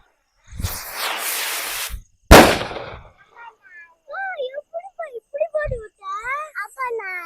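Two Sivakasi firecrackers go off in quick succession, the first a sustained crackling burst and the second a sharp loud bang, followed by a voice and chatter at a home firework test.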